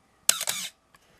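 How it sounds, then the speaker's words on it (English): A Canon AE-1 Program 35mm SLR, lens removed, fires its shutter once with a sluggish mirror: a loud, close mechanical clack stretched over half a second, followed by a faint small click. "run the shutter here with the lens off. You can see that mirror is slow getting up out of the way"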